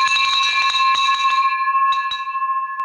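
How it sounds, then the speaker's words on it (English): Celebratory bell rung repeatedly in a quick, bright clatter, then its ringing tone lingers and decays, close and loud. "and now you get a bell ring."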